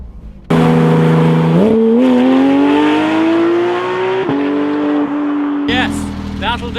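Porsche GT3 engine revs hard, a steady rising wail that climbs in pitch, dips briefly, then climbs again before dropping off, loud and close, with a short blip of throttle at the end.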